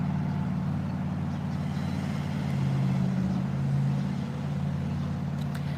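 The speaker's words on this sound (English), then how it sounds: "So I'm gonna wait for the traffic." Street traffic on Main Street in Middletown, Maryland rolls past nearby with a continuous low engine rumble that swells slightly as vehicles go by, heard from the sidewalk.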